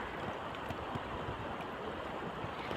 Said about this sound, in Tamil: வருடம் முழுதும் இந்த மாதிரி தான் தண்ணி போயிட்டே இருக்குது.